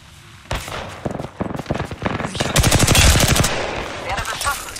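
Rapid automatic gunfire from the Apex Legends video game during a ranked match: dense, loud bursts of repeated shots that build into sustained firing before easing off.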